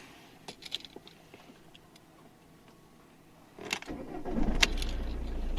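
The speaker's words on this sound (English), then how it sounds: "Engine on." An Alfa Romeo Giulietta's engine cranks and catches after a few soft clicks, rising into a steady idle rumble close by, with no talking.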